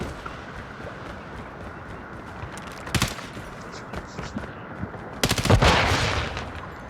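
Gunfire in the Call of Duty Mobile video game: a sharp burst of shots around the three-second mark, then a louder, denser volley with a boom near the end, over constant background game noise.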